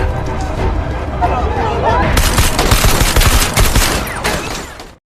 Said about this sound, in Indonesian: Saju melepaskan tembakan kepada para tentara itu, dan terjadilah peperangan yang sangat brutal di jembatan itu.